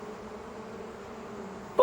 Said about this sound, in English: they buzzed around the fireman hoping he'd mend their hive